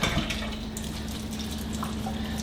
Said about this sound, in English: So just cold water straight out of the tap.